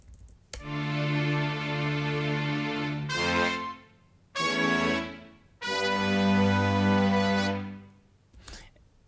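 Layered orchestral French horns from stock Logic Pro plugins play sustained held chords in three long phrases with short gaps, full and fairly loud, alone without talk.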